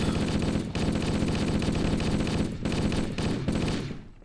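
Assault rifle gunfire in the video game Halo, loud continuous automatic bursts lasting nearly four seconds with brief pauses between volleys, then fading out.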